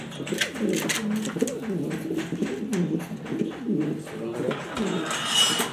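Pigeons cooing close by, a run of low, rolling coos repeating steadily with other bird sounds around them, in a domestic pigeon loft with young birds.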